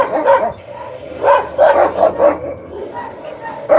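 Dogs bark in short, repeated bursts close by, loud and uneven, with some higher yips among them.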